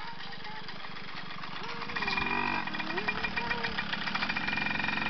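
Small motorcycle engine ridden at low throttle by a young child, a close, steady putter with a brief rise in revs partway through, then rhythmic pulsing idle.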